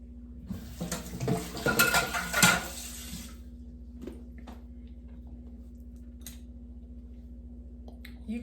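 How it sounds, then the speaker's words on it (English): A metal spoon clinks and scrapes against a container as honey goes into tropical fruit punch, a short burst of close clatter followed by quiet with a few faint taps. "I'm just putting like 2 tablespoons of honey."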